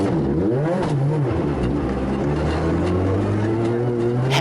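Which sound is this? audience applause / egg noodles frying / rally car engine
rally car engine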